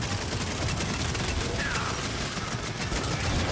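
Dense gunfire rattles continuously in the video game Gears 5, a loud unbroken wash of rapid shots with no clear gaps.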